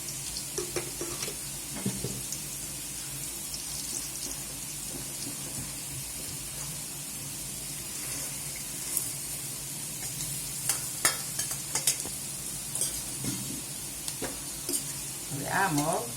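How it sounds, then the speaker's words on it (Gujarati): Moong beans tempered in hot oil with asafoetida and turmeric sizzle steadily while a spoon stirs and scrapes the pan, with occasional louder clinks and scrapes over the constant frying hiss. "મગ વઘારી દઈશું."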